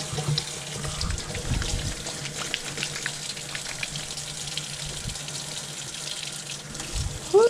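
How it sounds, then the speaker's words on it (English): Running water from a tap while hands are washed under it, a steady close splashing hiss with intermittent louder gushes and small clunks, ending in a brief squeak. "I'm going to have to wash my hands."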